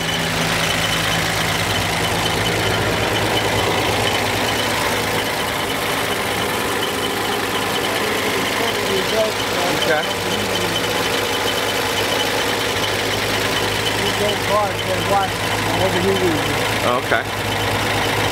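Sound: 1960 Austin Princess limousine Chevy engine idling

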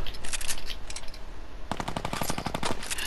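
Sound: new gun firing in Fortnite video game

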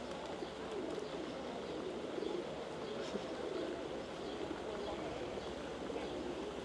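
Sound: doves cooing in a park

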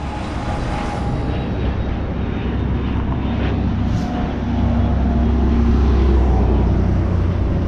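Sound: traffic noise

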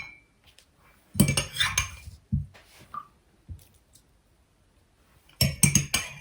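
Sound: mixing flour batter with oyster mushrooms in a bowl

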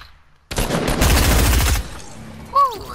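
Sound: gunfire from a video game

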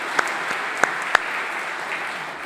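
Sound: congregation applause welcoming new church members

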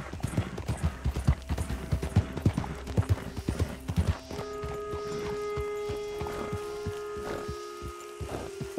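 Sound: horse hooves in video game Red Dead Redemption 2

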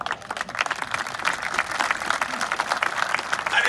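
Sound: audience clapping

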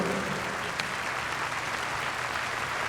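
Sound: audience applause welcoming a guest on stage

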